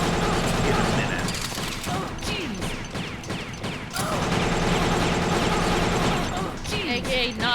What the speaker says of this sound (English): She's shooting a whole lot and missing most of those shots.